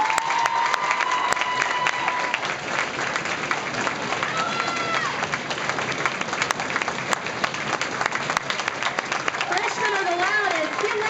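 Audience at a school Locks of Love event applauding and cheering steadily throughout, a dense wash of clapping with shouts and crowd voices, and talk heard over it near the end.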